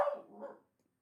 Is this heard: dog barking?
yes